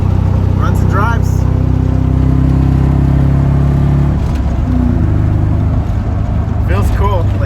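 A 1984 Toyota Corolla AE86 hatch with a manual gearbox hums along steadily while being driven, a low, even engine drone under a voice that speaks throughout, with the pitch shifting about midway.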